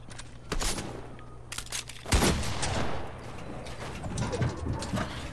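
Sniper rifle shots in the video game Fortnite crack out as a few sharp, loud bursts spread across a few seconds, each followed by a short decaying tail over a busy game backdrop.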